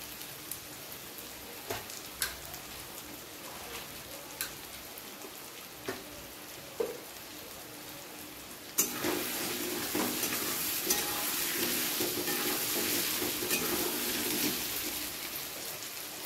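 Sliced onions and potatoes fry together in a pan of oil, with soft spatula taps at first, then a loud, steady sizzle swelling up partway through and holding close and constant.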